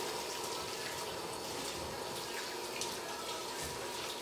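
Hot water runs steadily from a kitchen tap, a constant close-up hiss and splash that fills the whole stretch with no pauses and no voices.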